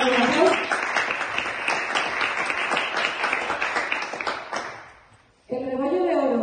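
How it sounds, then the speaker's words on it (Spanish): An audience at a nature and film festival award ceremony applauds with dense, steady clapping for about five seconds before it cuts off, then a voice speaks. "Vamos a darle un aplauso."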